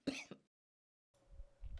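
Short cough from a modded coughing script in a video game, a brief sharp burst followed by silence and then faint low rumbling game ambience.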